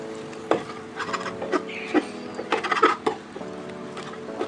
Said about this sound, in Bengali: এবার একটু বড় বড় করে ডিমটাকে কুচিয়ে ভেজে এটাকে কিন্তু আমি তুলে রাখবো